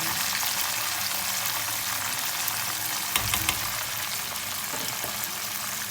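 Marinated chicken frying on high heat in a handi, a loud continuous sizzle with a brief stirring clatter partway through.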